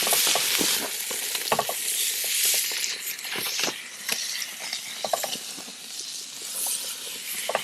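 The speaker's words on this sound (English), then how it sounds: "my dad is doing the grilling" Steak sizzles on a stovetop grill outdoors by a van, a steady close hiss with scattered sharp pops and crackles of fat throughout, no voices.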